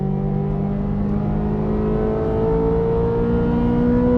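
A 2023 Corvette Z06 accelerating hard on a track down the front straight, its engine droning loud and steady with rising tones as it pulls through the gears, close and continuous.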